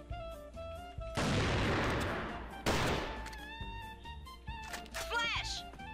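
Video game gunfire: two loud bursts of rapid shots, each trailing into an echoing decay, with softer shots and effects between them and a player talking and shouting over the action.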